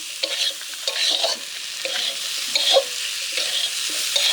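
Water goes into a pan of frying ground spices (turmeric, cumin, chilli, nigella) at an open-air riverside cooking spot, making a steady, fairly loud sizzle with stirring scrapes throughout.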